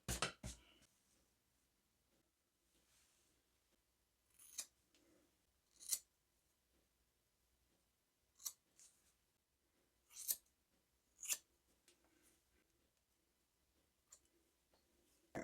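Scissors snip hair at home in short separate bursts, a handful of crisp close cuts spaced a few seconds apart against a quiet room.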